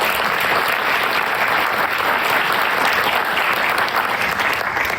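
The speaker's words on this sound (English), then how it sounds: "Can we give them a round of applause?" An audience at an arts and health literary event claps steadily and densely for several seconds, a loud, even wash of applause with no talk.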